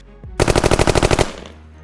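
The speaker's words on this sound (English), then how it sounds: "we are going to be shooting some cheap ammo today" A rapid burst of about a dozen closely spaced gunshots, loud and near, ending in a short echoing tail; a .22 rifle such as a Savage Mark II or Ruger 10/22 firing cheap ammo, with no talk.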